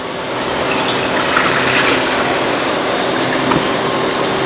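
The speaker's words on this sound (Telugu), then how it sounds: "ఫస్ట్ అయితే నేను బెల్లం వాటర్ అయితే వేసుకుంటున్నా" Jaggery water is poured into a pot while preparing Ugadi festival sweets, a steady close splashing and trickling stream that runs for a few seconds.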